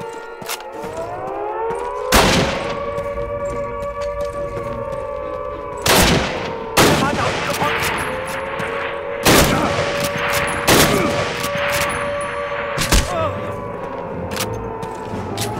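Gunfire in the Call of Duty video game during an assault on guarded machine gun nests, loud single shots and short bursts at irregular intervals over a wailing air-raid siren, with voices talking.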